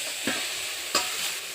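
Mashed roasted eggplant for a village-style oro is dropped into a hot pan with chili, giving a steady faint sizzle with two brief louder bursts of frying as it lands and settles.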